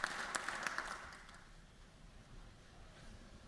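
Audience applause at a courtroom gathering, a brief burst of clapping that fades quickly into room noise.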